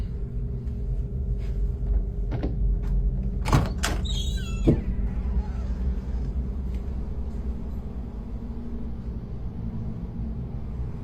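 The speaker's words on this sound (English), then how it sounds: "I'm gonna open this door and it's gonna stop." A door swings open in a quiet room over a steady low hum, with a short cluster of sharp clicks and a latch-like snap near the middle, fairly close and moderately loud.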